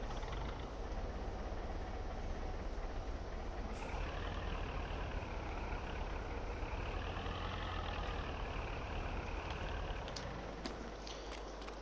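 A tractor engine in the Farming Simulator 22 game runs steadily for the whole stretch, a loud, low idling rumble with a rising and falling whine as the tractor is parked at a farm yard.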